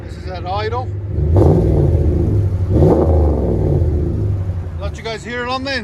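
A 2017 Dodge Ram with a 5.7L HEMI V8 and Flowmaster Outlaw dual exhaust idling up close, a deep steady burble with a couple of brief blips, and someone talking at the start and end.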